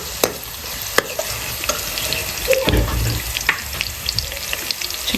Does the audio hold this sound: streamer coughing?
no